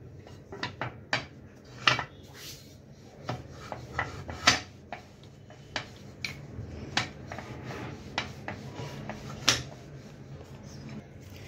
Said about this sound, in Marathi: हा पोळी लाटतो त्याप्रमाणे आपण लाटून घेऊया।